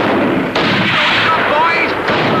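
Guns opening fire in a 1959 British naval comedy film: loud, continuous, dense gunfire and booming blasts that run without a break, with a faint shout partly buried in the din.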